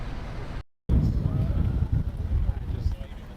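Strong wind buffets the microphone at a grass fire that destroyed an apartment building off Parmer Lane in Cedar Park, a loud steady roar that cuts out briefly, then returns in gusts.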